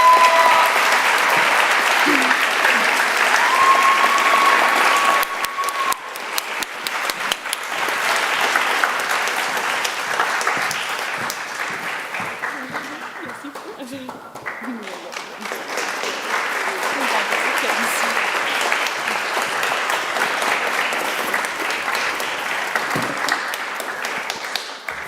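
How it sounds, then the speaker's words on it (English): A high school band concert audience applauds a student with loud, sustained clapping that continues steadily for the whole stretch, dipping slightly midway and then building again. "Please help me give a round of applause to Julissa Espino Kelly."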